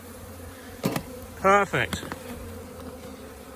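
Honeybees buzz around an open, crowded hive, with a brief louder burst of buzzing close by amid a steady background hum, followed by someone speaking a single word.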